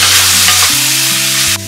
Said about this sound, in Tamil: எண்ணெயோட புதினா இலை வந்து வதங்கட்டும், டேஸ்ட் வந்து நல்லா வரும்.